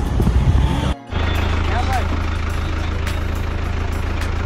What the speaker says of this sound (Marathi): नेमकी गाडी आली।